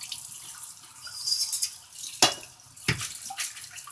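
Cold tap water runs steadily over salted vegetables being rinsed for refrigerated English pickles, a soft continuous hiss broken by two sharper splashes, with no talking.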